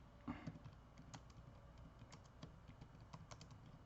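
Soft, rapid clicking of keys on a computer keyboard, a quiet, irregular run of taps and keystrokes heard close up with no talk.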